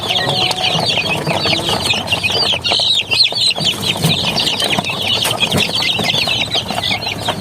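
Chicks and chickens being moved to a new pen cluck and peep continuously, a busy chorus of high chirps over farmyard noise, close and fairly loud with no talking.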